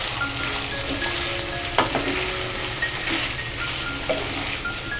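Ivy gourd and potato curry is stirred in a kadai, giving a steady sizzle and frying hiss with occasional scrapes and clinks of the spoon against the pan, close up and with no talking.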